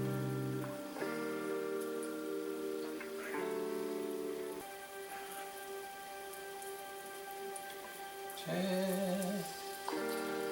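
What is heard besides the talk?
spices sizzling while roasting in hot oil for butter chicken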